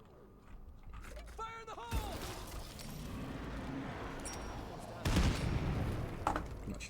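Grenade explosions in the video game State of Decay 2, set off against a plague wall: several loud, booming bursts with a heavy rumbling wash. A short sound effect comes first, and a second, stronger blast hits near the end.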